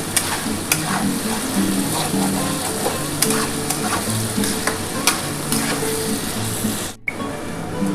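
A spice paste is stir-fried in a pan for a paneer, potato and capsicum curry, with a continuous loud sizzle and repeated scraping, clicking strokes of a spoon, then a sudden brief drop near the end.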